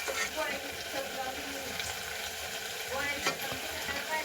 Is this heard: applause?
no